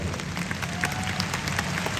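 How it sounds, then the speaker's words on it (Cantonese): Audience applause at a Big Four pop concert in Hong Kong, a steady wash of clapping and crowd noise with scattered sharper claps, fairly loud and continuous throughout. "我覺得係要俾啲掌聲"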